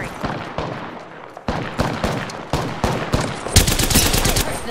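Rapid gunfire in Apex Legends, a series of loud sharp shots in irregular bursts that intensify into continuous close-range firing near the end.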